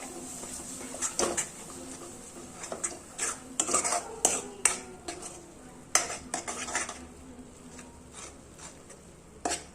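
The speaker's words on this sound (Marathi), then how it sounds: "हे चांगलं मिक्स करून घ्यायचं आधीच्या मसाल्यात" A thick black masala paste is stirred into spices in a pan for a traditional spicy katachi amti, with a spoon scraping and clinking against the metal in irregular bursts, fairly close.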